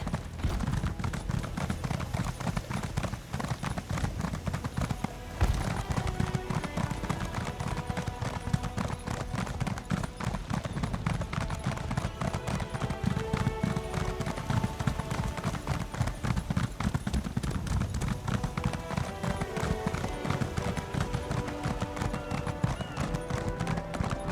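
Horse hooves clip-clop in a steady, continuous rhythm while riding in Elder Scrolls Online: High Isle, close and prominent over a layer of background music for the whole stretch.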